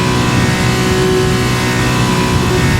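A vehicle engine holds high revs during a race, producing a loud, continuous, dense roar that barely varies in level, with no talking.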